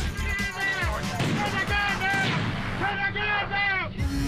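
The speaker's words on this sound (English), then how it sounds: "Suddenly, gunfire erupts." Gunfire breaks out at a roadside police call where a driver has stepped from his vehicle holding a shotgun: loud, dense bursts of shots and blasts, mixed with shouting voices and wailing tones throughout.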